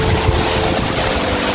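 Clear water of a cold stream rushing steadily near the Curug Badak waterfall in Tasikmalaya, a loud, continuous broadband wash with no voices.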